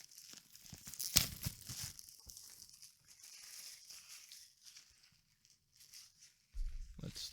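Plastic packaging being unwrapped and crinkled close up, quiet intermittent rustles and one sharp tear, with a low thump near the end.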